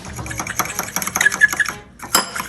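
A utensil whisks pancake batter mixed with water in a bowl, making rapid clicking, scraping strokes in a steady flurry, then a brief pause and one final clatter.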